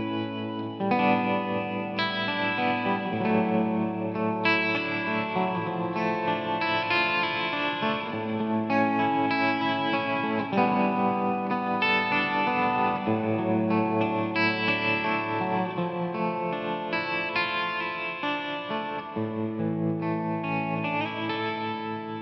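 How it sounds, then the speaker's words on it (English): Electric guitar through a tremolo effect pedal on a pedalboard, playing sustained chords that pulse steadily in volume, with chorus-like shimmer and some drive, continuous and fairly full without any talking. "I really like tremolo, so I will often add that in"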